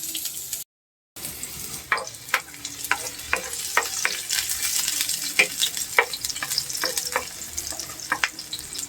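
Garlic and onion sauté in hot oil in a pan, a continuous crackling sizzle broken by repeated sharp spatula scrapes and stirs, close and fairly loud, with no voices.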